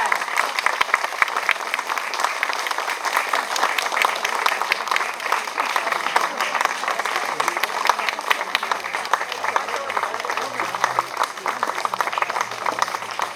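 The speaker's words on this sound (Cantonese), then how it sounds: "請各位以熱烈嘅掌聲歡迎全國政協何厚鏵副主席及一眾主禮嘉賓進場" Sustained, dense applause from a large audience in a hall at a formal ceremony, welcoming an official and guests of honour as they enter, steady and loud without pause for the whole stretch.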